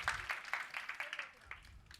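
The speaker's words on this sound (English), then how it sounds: "Give her a round of applause." An audience at an entrepreneurship speaking event claps in a steady, fairly quick rhythm of individual hand claps. The applause stays moderate in volume and eases off toward the end.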